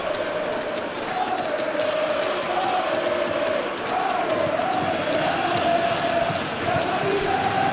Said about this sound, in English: Well, the crowd clearly liked what they just saw.